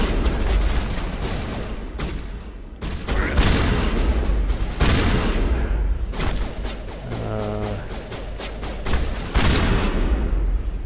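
Heavy shotgun blasts go off in Mass Effect in a handful of loud, separate booms with gaps between them, set against the din of an in-game firefight.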